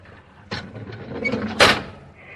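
A door shut as a radio drama sound effect, a sliding rumble and a sharp closing thud near the end, close and clear with no talk.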